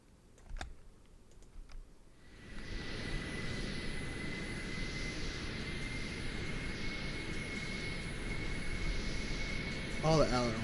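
An F-22 Raptor's jet engine in Microsoft Flight Simulator spools up after a couple of keyboard clicks into a steady, loud roar with a high whine, holding for several seconds until a voice speaks near the end.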